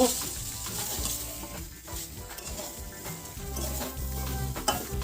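Fried spiny gourd is stirred into a hot tempering for a mustard-poppy seed curry. Steady sizzling and frying run close by under repeated scraping and stirring of the pan, with no voices.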